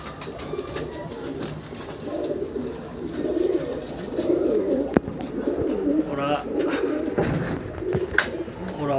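Pigeons at their nest where eggs are being laid, giving repeated low throaty coos close by, with a person talking faintly in the background.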